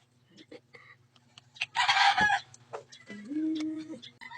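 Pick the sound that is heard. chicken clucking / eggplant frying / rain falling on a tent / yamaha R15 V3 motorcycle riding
chicken clucking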